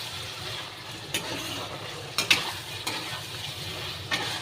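Curry masala sautéing in a dry pan with no water, a steady low sizzle broken by a few sharp scrapes of a spoon stirring against the metal, close and alone.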